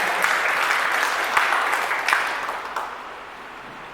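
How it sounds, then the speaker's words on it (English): A school parent-teacher meeting audience claps steadily in sustained applause, a dense wash of hand claps that thins out and fades near the end. "let's clap ourselves and let us encourage one another."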